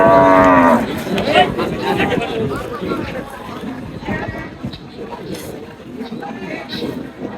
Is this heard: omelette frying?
no